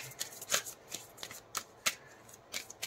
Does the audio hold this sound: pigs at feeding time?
no